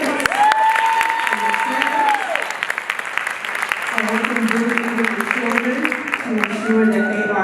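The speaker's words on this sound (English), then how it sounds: "so clap your hands" Staff at a Head Start training day clap their hands, a moderate round of applause running throughout under talking voices and some tonal sounds.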